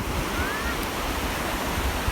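Sea surf washes onto the beach at Rayong with a continuous rushing roar, buffeted by wind noise on the microphone, close and fairly loud for a brief moment.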